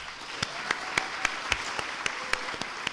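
A small audience at a congressional district primary debate in Santa Clarita gives sparse, slow applause: about a dozen distinct claps at a steady, unhurried rhythm over a quiet room.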